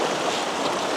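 A waterfall on the Jura Creek trail in Kananaskis gives a steady, loud, broad rush of falling water, close by and with no voices.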